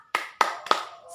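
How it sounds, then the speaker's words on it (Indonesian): Three sharp claps ring out in an even rhythm, close and fairly crisp, each fading quickly, as a classroom of children claps a short cheer together. "Kita tepuk semangat dulu ya."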